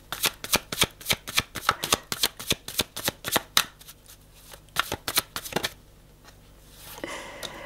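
Tarot cards being shuffled for a three-card reading: a quick run of crisp riffling snaps and flutters, close and fairly loud, then a pause and a softer second burst before it trails off.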